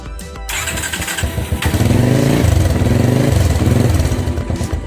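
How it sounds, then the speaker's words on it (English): Motorcycle engine cranked by a phone-controlled starter circuit catches and runs, a close, loud, steady mid-pitched rumble that settles into a throbbing idle after a brief start. "we'll power the bike. So the bike is on."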